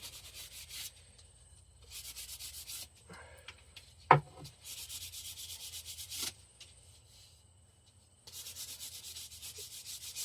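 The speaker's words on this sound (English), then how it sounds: "for the Harry wand, I'm going to sand the big portion of it on the lathe, and the rest I'll sand by hand" A wooden Harry Potter wand being sanded on a lathe, giving bursts of steady, close rasping friction that start and stop several times, with a sharp knock in the middle.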